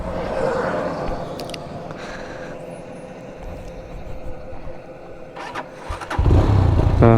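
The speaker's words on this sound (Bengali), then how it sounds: "তো বাইকে উঠে স্টার্ট দেই।" A GPX Demon GR 165 RR motorcycle turns over with starter whine and cranking before the engine catches and settles into a loud, close, throbbing idle.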